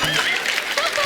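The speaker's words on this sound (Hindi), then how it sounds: "जोरदार तालियां हो जाए अक्षय कुमार जी के लिए।" Studio audience applauding for Akshay Kumar on a Hindi comedy talk show, a brief dense burst of clapping with voices mixed in.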